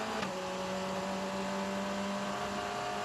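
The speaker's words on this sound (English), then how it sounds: "you can hear off the engine note that the speed is building all the time" A race car at the Macau Grand Prix accelerating along a street circuit, a sustained engine drone with rising steady tones, fairly distant and continuous.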